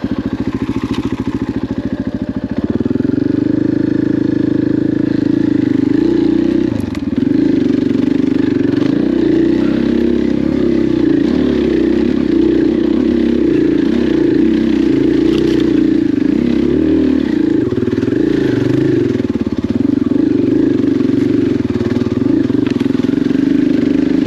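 A dirt motorcycle's engine revs hard and steadily while its rear tire spins without grip in slick, wet mud on a forest trail, a loud, continuous droning roar after a brief idle at the start.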